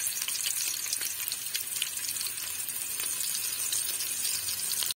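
Onions fry in hot oil in a pot, a steady hissing sizzle heard close and moderately quiet, continuous without speech until it cuts off at the end.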